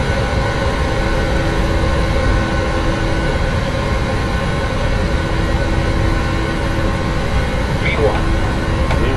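Airliner jet engines spool up to takeoff power in the Prepar3D flight simulator, a loud steady roar with a broad rumble and high whine, heard continuously under someone speaking.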